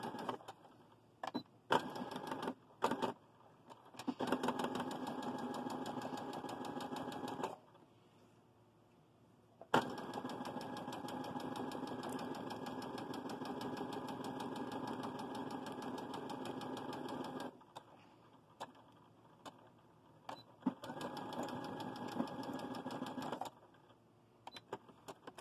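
A sewing machine stitches the seam of an elastic face mask, running in short quick bursts and then two long steady runs with brief pauses between, faint and close with no voices.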